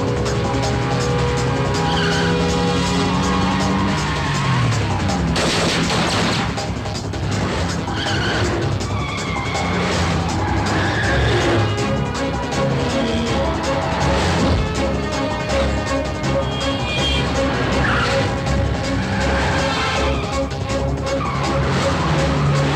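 In an action movie chase, a car races with tires squealing and skidding, loud and sustained under a thick music score, with engine roar and a brief crash-like burst partway through.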